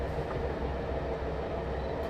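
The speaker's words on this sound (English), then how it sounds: "The noise of the train and the beautiful light." The Dogu Express sleeper train across Türkiye rolls steadily on its rails, a constant, moderately loud interior rumble with a faint rhythmic clack and no voices.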